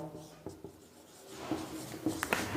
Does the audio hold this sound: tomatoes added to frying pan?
no